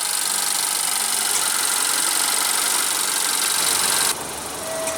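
Honda CR-V 2015 Touring with a 2.4 L four-cylinder engine running at idle, a steady close hum and hiss that drops slightly in tone near the end.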